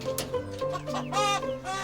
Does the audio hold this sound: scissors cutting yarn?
no